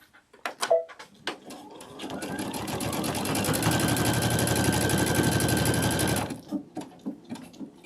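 Sewing machine stitching an eyelet stitch on a sunflower wall hanging, a rapid, even mechanical chatter that runs loud and steady for about four seconds. Clicks and handling noises come before and after it.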